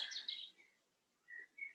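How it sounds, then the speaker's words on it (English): Faint, distant birds chirp in short high tweets, a burst at first, then a gap and two more brief calls in quiet surroundings. "The tweeting of the birds"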